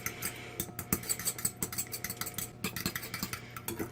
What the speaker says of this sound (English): And now we're just going to beat these eggs.